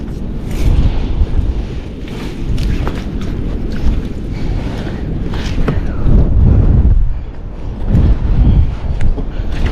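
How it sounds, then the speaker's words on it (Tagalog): Strong seaside wind batters the microphone on a Taiwan shore, a loud, roaring low rumble that surges and dips continuously with gusts, nearly drowning out everything else. "Lumalakas ang hangin."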